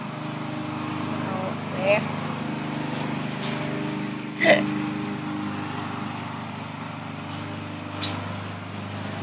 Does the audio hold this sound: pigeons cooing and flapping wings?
no